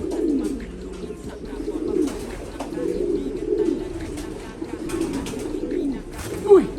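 Pigeons cooing close by in a steady, low, throaty murmur that runs throughout, with soft rustling and a slightly louder coo near the end; faint voices sit under the birds.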